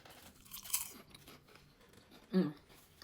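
Two brief crunches of someone biting crispy tempura-fried kale, close and crisp, the second louder, with quiet pauses between.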